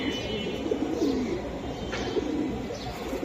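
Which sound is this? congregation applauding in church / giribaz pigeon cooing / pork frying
giribaz pigeon cooing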